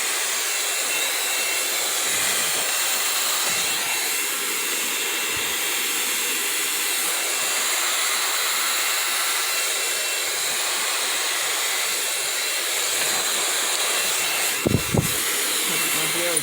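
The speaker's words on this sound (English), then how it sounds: "Okay, so I'm going to blow dry this side as well." A handheld hair dryer blows steadily while drying hair, a continuous loud airy roar that holds for the whole stretch and cuts off with a short bump near the end.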